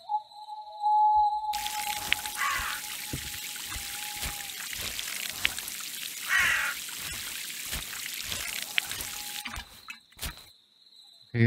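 Watering crops from a watering can in the farm-sim game We Harvest Shadows: a steady, continuous pouring splash runs for several seconds, starting abruptly and stopping near the end, with faint game tones before and after.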